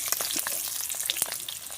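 An egg fries in hot oil with a continuous close crackling sizzle, sharp pops scattered through it.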